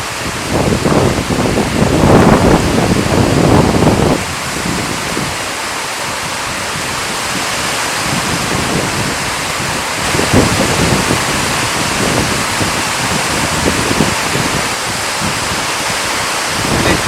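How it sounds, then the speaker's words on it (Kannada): A heavy downpour roars steadily, with gusts of wind buffeting the microphone in loud surges, then settling into a constant rushing wash. "ಜೋರು ಮಳೆ ಬರ್ತದೆ, ಗಾಳಿ ಮಳೆ"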